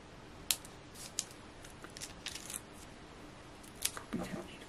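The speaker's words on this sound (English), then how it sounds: "I'm just going to use my knife just to cut that down" A knife cuts through craft card for a tent-fold card project, giving faint, short scraping and snipping sounds with a few sharp clicks in a quiet room.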